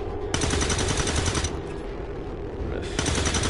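Rapid automatic gunfire from a missed shot in the tactical game XCOM 2: War of the Chosen, a dense continuous burst of loud close shots rattling steadily throughout.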